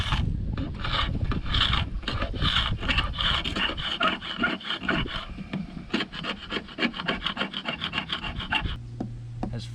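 A scraper rasps paint off the wooden hull of a Tahiti gaff cutter sailboat, producing close, continuous rough scraping strokes in a rapid, uneven rhythm that stops near the end, with no speech.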